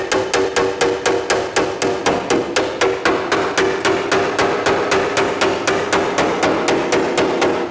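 Metal hammer blows shaping a welded car body panel during a DIY restoration, a steady run of loud, close, evenly spaced ringing strikes, roughly three per second, with no talk.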